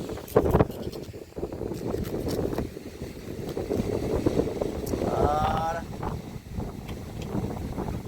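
Cold, dry wind buffeting an outdoor microphone, a steady low rumbling roar that swells and dips throughout, with bursts of talking and a short high whistling tone partway through.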